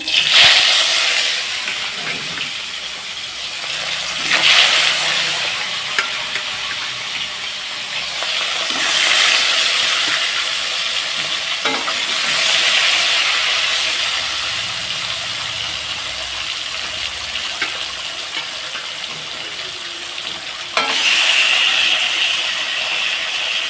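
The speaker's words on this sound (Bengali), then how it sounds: "মাছগুলো আমি সুন্দর করে উল্টো পাল্টা ভেজে নিচ্ছি" Steady broadband hiss of fish frying in hot oil, loud and continuous with occasional sharper crackling bursts.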